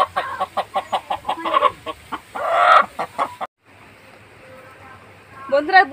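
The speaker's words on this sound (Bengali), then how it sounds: "এই দেখুন দেশি মুরগিটা ধরে দিয়েছি" A native country hen kept at home clucks in a quick run of close, rhythmic clucks, followed by a louder squawk, a brief lull and another burst of clucking.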